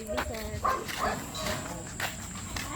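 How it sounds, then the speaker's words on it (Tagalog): Many farm goats bleat in the evening, several calls rising close by under ongoing people's chatter. "Daming kambing."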